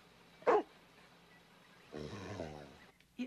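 A dog gives a single short bark, followed after a pause by a low, rough, breathy sound, with a faint noisy background.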